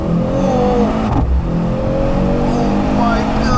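Mercedes C63 AMG, a 670 bhp car without the V8, pulling hard in Sport Plus with manual shifting from a warm engine; loud, sustained engine drone with rising tones and a brief dip as if a gear changes, heard from inside the cabin.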